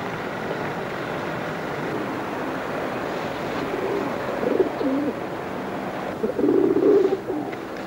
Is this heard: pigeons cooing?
yes